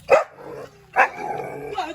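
A dog barks twice in clear, loud bursts about a second apart, with a quieter yip following, heard close by in a domestic setting with no talk over it.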